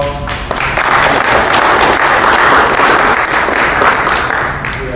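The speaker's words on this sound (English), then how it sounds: "we'll give him a round of applause" Conference audience at a summit on sustaining historically Black colleges gives a round of applause for the national chairman, a loud, full burst of many hands that swells and holds steady for several seconds before easing off slightly.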